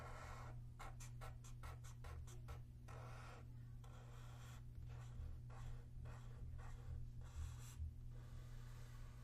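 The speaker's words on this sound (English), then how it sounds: "let me sketch out an RL circuit" Chalk or marker strokes sketching an RL circuit diagram on a lecture board, a quiet run of short scratchy strokes in quick bursts with pauses, faint and alone in a room with steady hum.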